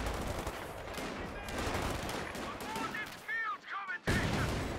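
Two squads fire MP40 submachine guns in the real-time strategy game Company of Heroes 2, with dense rattling bursts over battlefield noise and a few whistling shell sounds near the end.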